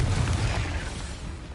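A Confringo blasting spell goes off in Hogwarts Legacy, a loud booming explosion with a deep rumbling low end that slowly decays over a second and a half, heard alone.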